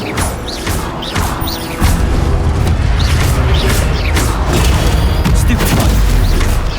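Hogwarts Legacy combat with an Incendio fire spell: a steady roar of blasts and crackling impacts under repeated sharp whooshing bursts, loud and dense throughout, growing heavier after the first two seconds.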